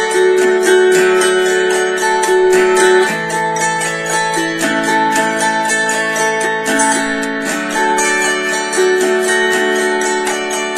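Plucked autoharp strings ring out in a flowing arpeggio, notes rolling one after another in a steady pattern, bright and close, with no talking.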